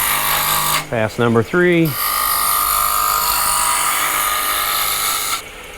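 A roughing gouge cuts spinning wood on a lathe running at high speed, a steady hissing, whirring cut that holds loud and continuous for several seconds before stopping, with a brief spoken voice over it at the start.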